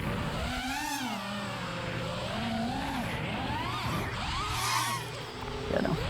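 FPV racing drone motors throttle up with a whining, rising and falling buzz that swells and dips repeatedly, fairly steady and close, with a brief louder surge near the end.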